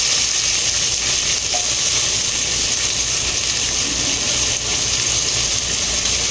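Onions frying in a pan give a steady, dense sizzle that fills the whole clip at close range and fairly loud, with no talk over it.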